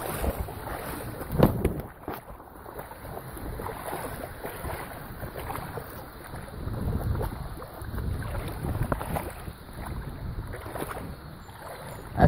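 Gusty wind on a river in the Hunter Valley during a bass fishing trip, a steady broadband rush and rumble buffeting the microphone for the whole stretch, with occasional louder gusts and no talking.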